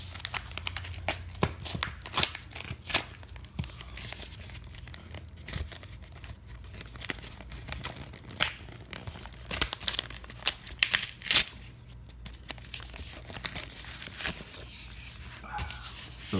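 A Pokemon TCG Fates Collide booster pack wrapper being torn open by hand, with crinkly foil tearing and rustling in uneven bursts close by, and a dog briefly audible in the background.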